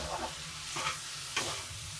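Potatoes being stirred in a cooking pan give a soft, continuous frying hiss with a few brief scraping swishes of the spoon, fairly quiet and close.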